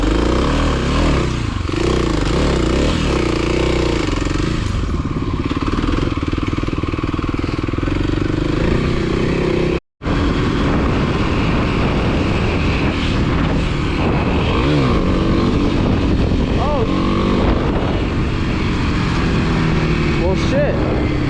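A Kawasaki KLX300 dirt bike roars loudly through a third-gear pull-up on a trail, its engine and wind noise filling the whole stretch close to the rider, with only a brief drop in the middle.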